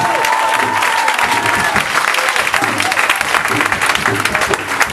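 A church congregation breaks into loud, sustained applause, a dense wash of many hands clapping at once that carries through without a break, with faint crowd voices mixed in.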